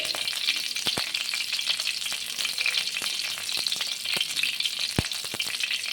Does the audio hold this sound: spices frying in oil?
yes